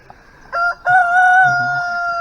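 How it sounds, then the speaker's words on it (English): A single loud rooster crow, close and clear, with a short opening note followed by a long drawn-out call. "Got a rooster here."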